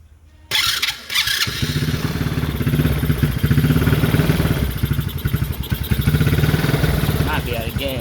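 A Chinese four-wheeler ATV engine catches and settles into a rapid, uneven putter with mechanical clatter, running close and fairly loud while a voice speaks over it.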